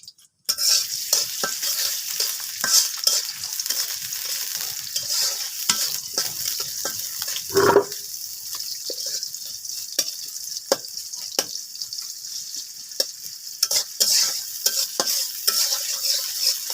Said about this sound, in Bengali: পেঁয়াজটা ভালো করে মানে ভাজা হয়ে গেছে